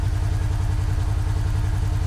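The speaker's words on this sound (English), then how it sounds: "What are we at idle right now?" A Kawasaki Teryx side-by-side idles with a steady, low, throbbing engine rumble, heard from inside the cab and without talk.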